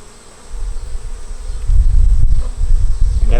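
Honey bees buzz around an open wooden hive box during a hive inspection. The dense, loud buzzing swells and stays close, with many insects droning together and no talk.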